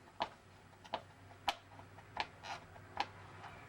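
On a Honda CBR1000RR under rebuild, a tool clicks against motorcycle bolts as they are loosened and removed, a series of sharp, evenly spaced metallic ticks about every half second, close and isolated over a faint background hum.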